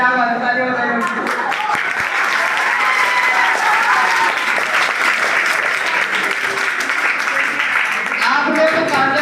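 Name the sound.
classroom applause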